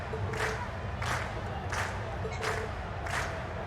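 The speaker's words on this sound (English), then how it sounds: "we've heard your cheers loud and clear" A crowd in The Legend of Heroes: Trails of Cold Steel video game cheers in repeated rhythmic bursts, about five swells of shouting at even intervals over a steady background din.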